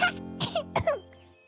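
A few short, close coughs in quick succession, bright and abrupt, followed by quiet.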